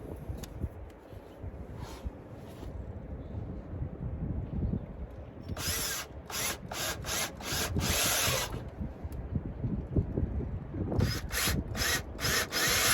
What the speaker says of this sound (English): Then I'm going to drill these holes.